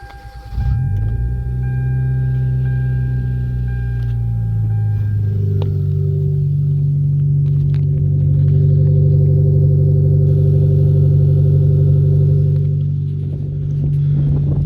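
A muffler-delete Hyundai Veloster engine cold-starting early in the morning: a loud starter whir and catch, then a steady, deep, droning idle with a slight rise in level midway, close and with no talk.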